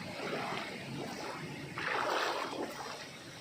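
Steady broadband rush of clear water pouring down a forest waterfall on a jungle river at Anakkampoyil, continuous and fairly near, swelling louder midway, with no voices.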